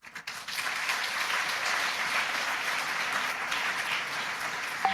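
Audience applause at a formal speech event, sustained and steady clapping from a fairly distant crowd for about five seconds, with no talking over it.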